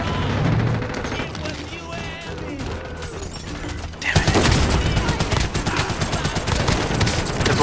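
Rapid automatic fire in Call of Duty Warzone, at first softer and more distant, then loud close bursts of rattling shots that keep going, with voices talking underneath.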